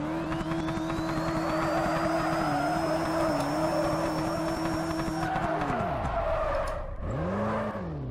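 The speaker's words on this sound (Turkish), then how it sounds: "Fazla da uzatmadan hemen yanlamaya başlayalım abi" A Mitsubishi drifting in the racing game Drift Street Japan, its engine droning loudly under a long, rising tire squeal, then the revs drop and sweep back up as the skid breaks off, with no voices.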